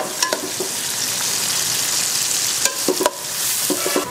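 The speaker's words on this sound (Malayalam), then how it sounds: "നമ്മളിട്ട ഉള്ളി നന്നായിട്ട് വഴറ്റിയതിന് ശേഷം" Onions sauté in a cooker for Arabic chicken madghut, giving a continuous sizzle up close, broken by a few sharp clinks and scrapes of a spoon stirring against the metal.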